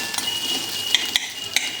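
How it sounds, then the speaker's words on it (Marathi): Tomato chutney sautéing in a pan, a quiet background sizzle punctuated by a few light metallic clinks of a spoon against the pan, close with no talk. "आता हे परतून होतच आहे"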